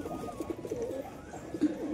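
Pigeons coo softly while feeding, low murmuring calls repeating irregularly and close by over light background noise, with no talking.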